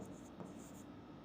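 Pen writing out a physics solution on paper, a short faint scratching stroke lasting about a second, quiet and close with no voices.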